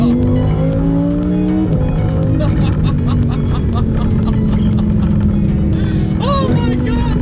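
A car engine revs loudly and steadily close by on a drive, its pitch rising and falling with sharp tire squeals and a brief whine near the end, with people talking over it throughout.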